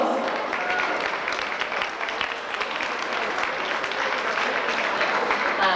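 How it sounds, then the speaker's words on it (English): Audience applause honoring the coordinators of a beauty contest, a steady, dense wash of many hands clapping at an even level for the whole stretch, with no letup and no voices standing out. "why not give them a round of applause?"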